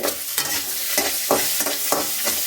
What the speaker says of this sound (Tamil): அடுப்பை குறைச்சி வச்சு வதக்கிக்கோங்க ஓரளவு வெங்காயம் வதங்கிருச்சு